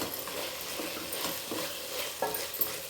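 Slit green chillies sauté in a pan for a vegetable rice, with a steady sizzle under repeated clinks and scrapes of a spoon stirring at close range.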